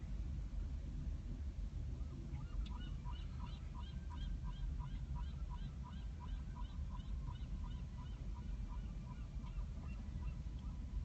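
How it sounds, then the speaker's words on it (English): Repeated honking seagull calls come in a loose series over a heavy low rumble of wind or traffic, the calls moderately distant. "I hear seagulls yelling at me."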